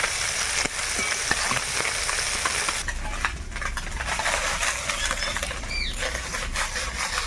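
Cabbage with shrimp and tomato frying in a pan on a clay stove in a Sundarbans kitchen, giving a steady sizzle with scattered scraping and clinking of the stirring spoon.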